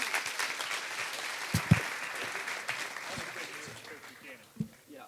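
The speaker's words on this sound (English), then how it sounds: "Would you give Coach Buchanan a round of applause?" A seated audience gives a football coach a round of applause at a Super Bowl Sunday gathering: dense, steady clapping that gradually thins and fades toward the end.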